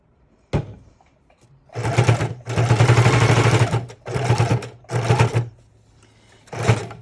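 Sewing machine stitching paper envelopes onto a junk journal page, several loud bursts of rapid mechanical whirring separated by pauses, with a sharp knock near the start.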